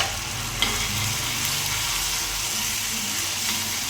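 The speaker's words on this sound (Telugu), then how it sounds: "మనం మాడు కాకుండా ఇట్లా ఫ్రై చేసుకోవాలి." Masala paste with cashews frying in a pan for restaurant-style paneer curry, a dense continuous sizzle with scraping stirring strokes, close and steady with no talk.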